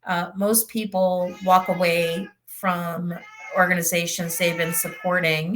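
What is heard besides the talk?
pet cat meowing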